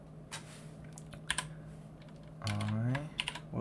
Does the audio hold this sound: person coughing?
no